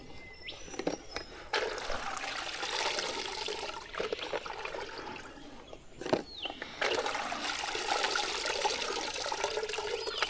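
Water trickles and splashes steadily at a freshwater fishing spot, aerating the water in a continuous close wash of sound with a few brief knocks and shifts in level.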